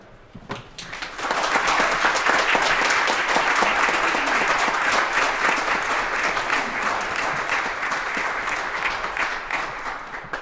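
Audience applause welcoming speaker Brent White, a dense, sustained clapping that swells in after a quiet second and holds steady and loud to the end.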